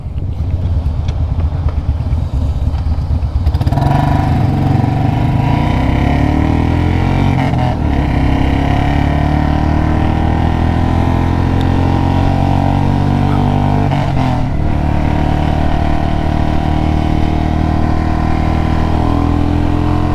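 A Royal Enfield Classic 350 motorcycle's exhaust rumbles loud and close as the engine pulls up through the revs, its deep throb rising steadily with a couple of brief shifts, with no talk over it.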